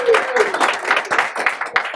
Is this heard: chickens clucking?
no